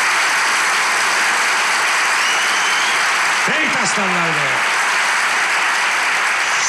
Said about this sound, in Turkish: İlişki testi harikulade bir kalabalıkla, alkışlarla başlıyor!